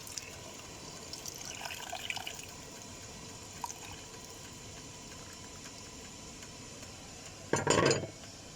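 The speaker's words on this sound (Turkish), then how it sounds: "Pilavın suyunu bırakıyorum." Water poured into a pot of chickpea and chicken rice pilaf, a soft running trickle under quiet kitchen background with faint clinks, ending in a brief louder splash near the close.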